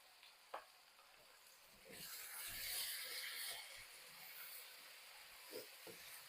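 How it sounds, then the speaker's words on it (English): Beef hitting a hot pan for a stir fry sets off a loud, broad sizzle that swells and holds steady, with a few sharp clinks of utensil on the pan before and after it. "I'm adding the beef now."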